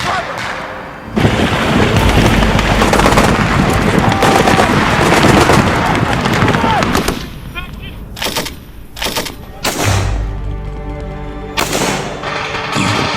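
Sustained, dense gunfire from Korean War combat, with rapid bursts like machine-gun fire and scattered booms, loud and continuous for several seconds before breaking into separate sharp shots, with a narrating voice over parts of it.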